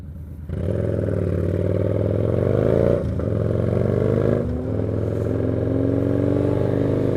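A four-cylinder motorcycle revs loud and close during stunt riding, its steady high engine note holding for several seconds and briefly dipping twice before climbing again.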